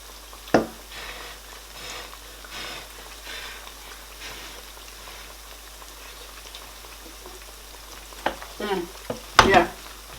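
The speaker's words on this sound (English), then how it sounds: "I am done frying my plantain" Plantain slices frying in hot oil in a home kitchen, a steady low sizzle running throughout with a few sharp clatters and scrapes of a utensil near the end.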